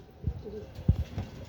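Racing pigeons arriving at the loft during a 148 km training toss in Urdaneta, Pangasinan give a few soft, low coos close by in a quiet setting.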